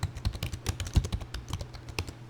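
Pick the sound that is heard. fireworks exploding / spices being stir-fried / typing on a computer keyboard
typing on a computer keyboard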